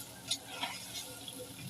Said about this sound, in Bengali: লাল লাল করে পনিরটি ভাজতে নেবো।